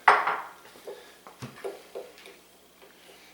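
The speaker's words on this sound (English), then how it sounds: "I'm just going to work it with a fork." A metal fork clinks and scrapes in a bowl, working butter into dry coffee cake ingredients: one loud clatter at the start, then a run of lighter taps and scrapes that fade off, close by with no voices.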